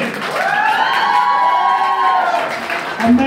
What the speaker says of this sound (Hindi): एक बार तालियां बजाइए नीलम मैम के लिए